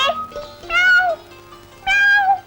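A cat meows in two clear, drawn-out calls, loud and close, with a short gap between them and faint background noise.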